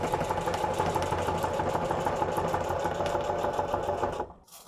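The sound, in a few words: heavy duty sewing machine stitching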